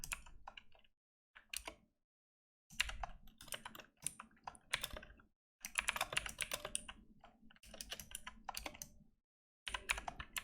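Close computer keyboard typing while writing code, quick clattering key bursts separated by short silent pauses.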